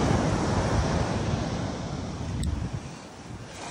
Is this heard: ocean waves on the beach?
yes